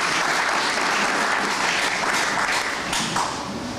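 Sustained, loud audience applause at a Botswana football tribute, a dense steady roar of clapping that holds evenly throughout and tapers slightly at the end.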